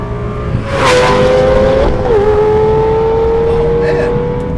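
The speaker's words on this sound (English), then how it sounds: "I'm having fun on the track in a Lamborghini." A 2004 Lamborghini Gallardo drives on a race track. The engine holds a loud, steady tone close by, and its pitch dips briefly around a gear change before it settles into a sustained drone.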